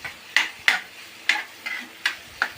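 Cooked tomatoes mashed in a pan with a spoon, about seven sharp scraping clacks against the metal at an uneven, unhurried rhythm, close and moderately loud, with no voices.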